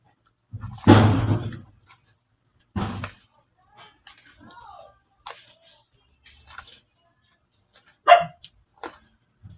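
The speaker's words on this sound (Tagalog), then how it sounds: "ingay naman yung aso" A dog barks a few times in short bursts, fairly close, with a later yip, amid a quiet room with faint background noises and no clear talk.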